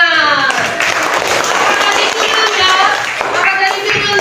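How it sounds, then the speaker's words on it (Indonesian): A school class claps together after a story, loud dense clapping close by with some thumps and children's voices mixed in, continuous for a few seconds. "Iya, tepuk tangan."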